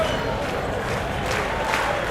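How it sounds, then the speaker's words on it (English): An old broadcast recording of a baseball stadium crowd in St. Louis cheering and applauding as Bill Dickey comes to bat, a broad, steady roar of distant voices and clapping. "St. Louis fans are applauding Dickey."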